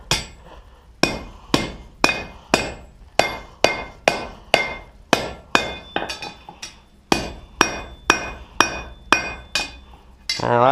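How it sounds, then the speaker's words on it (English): Hot metal hammered over the underside of an anvil horn to bend it: loud, ringing hammer blows in a steady rhythm of about one and a half per second, close and with no talk. "we're just going to bring it to the underside of the horn and bend it over"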